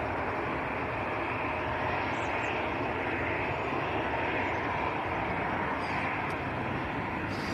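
A KLM airliner bound for Amsterdam roars steadily at Manchester Airport, a loud, broad jet rumble that holds constant throughout with no speech.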